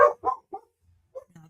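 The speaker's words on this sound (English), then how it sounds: "I apologize for the dogs." Dogs barking indoors in a household: a few quick, sharp barks close by, then a pause and two fainter yips, with no talking over them.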